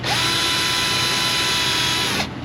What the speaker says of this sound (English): Now I'm kind of drilling a little sideways because the drill is running into the bottom of the frame